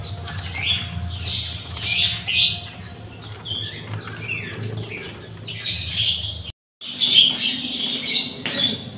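Harsh, scratchy squawks of a long-tailed shrike repeat in rapid bursts at close range, with a brief silent gap near the end before the calls resume.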